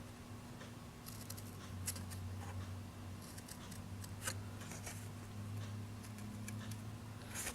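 Scissors or a blade cut notches into cardboard to make a loom, giving quiet, irregular snips and ticks over a steady low hum, close by with no talking.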